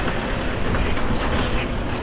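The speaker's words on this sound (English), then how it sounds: "There's this blue choo-choo train that drives around the city." A blue tourist choo-choo train rolls through city streets, a steady broadband rumble of wheels and motor mixed with traffic noise, continuous and fairly loud throughout without speech.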